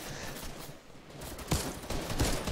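Gunfire crackles through a video game beach assault, with a busy wash of distant battle noise and a few louder, closer shots punching through.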